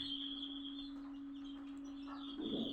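Chickens in a village yard give soft clucks and short calls over a steady background hum, with a louder, closer burst of clucking near the end.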